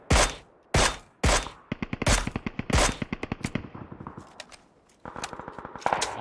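Video game gunfire: bursts of loud, close shots, first heavy single blasts, then rapid rattling volleys and a trailing run of quieter shots, with no talk.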